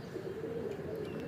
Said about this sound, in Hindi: वो ऊपर चमकार में कबूतर नज़र आ रहा है।